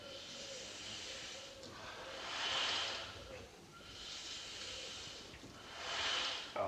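A rebuilt steamroller engine running softly, its slow, rhythmic hissing swells rising and falling like heavy breathing, faint and steady with no voices.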